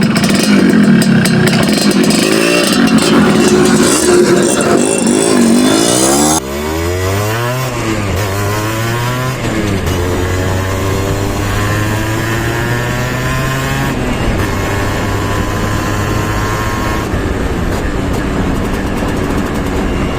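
Restored vehicle on a test drive, its engine loud and close, revving and shifting through rising and falling pitch sweeps, then settling into a steady drone with further gear changes.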